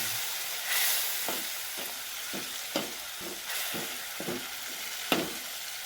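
Crumbled rotlo with turmeric and a splash of water cooks in a pan, a soft steady sizzle and hiss punctuated by about eight distinct spoon scrapes and taps, close by with no talking.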